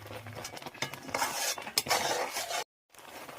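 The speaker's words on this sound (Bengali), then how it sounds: "এরপর দিয়ে দিচ্ছি এখানে কাস্টার্ড পাউডার গুলে রাখা।" Dissolved custard powder goes into a pot of chhena payesh, followed by spoon stirring that clinks and scrapes against the metal pot, close and moderately loud, with a brief silent gap near the end.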